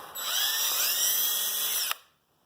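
A high-pitched power drill with a very sharp bit whines steadily for about two seconds while drilling an air filter housing for a Yard Machines mower, then cuts off sharply.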